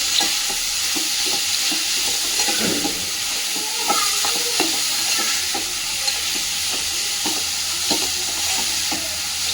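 A spoon stirs mushroom curry with turmeric in a pan on a village-style stove, repeated scraping strokes at an irregular rhythm over a steady sizzle of frying, close up and without voices.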